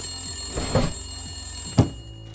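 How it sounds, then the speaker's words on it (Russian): Telephone ringing inside a prison in the video game The Long Dark, a buzzing bell tone under two dull knocks, moderately loud with no talk. "И неожиданно зазвонил телефон."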